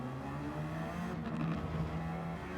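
Race car engine in a racing video game at the Fuji circuit during hard braking, a loud continuous engine drone with steady tones that shift midway, with no talking.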